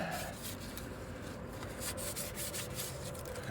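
Old, crumbling sandpaper rubbed by hand over a pitted steel hydraulic leveling-jack ram from a motorhome, a steady close-up rasping scrape with rhythmic back-and-forth strokes, faint and continuous.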